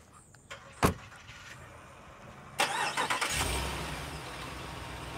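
Air suspension on a 2022 Jeep Grand Wagoneer Series III lowering to access height: a faint click and thump, then a sustained airy hiss and low hum from the vehicle, with no talk.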